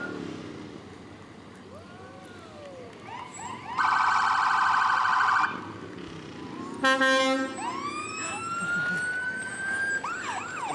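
A fire truck siren wails and whoops nearby at a fall fair parade, with rising-and-falling tones, a sustained blaring horn blast, and a short burst of stepped alarm tones.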